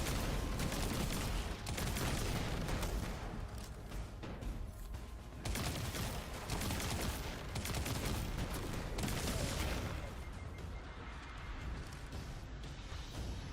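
Rapid gunfire in the Destiny video game, dense repeated bursts of shots running almost continuously at a fairly even level, thinning slightly toward the end.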